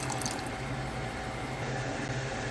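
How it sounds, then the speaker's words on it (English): Water poured into a pan of stir-fried onion, blended spices and lime leaf for shrimp padang sauce, a steady splashing pour that is fairly faint and continuous, with no talking. "Add water, lots of water."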